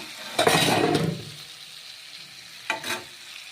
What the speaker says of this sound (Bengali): দেখো আমি রান্না করতেছি শিম আলু বেগুন মূলা সব কিছু দিয়ে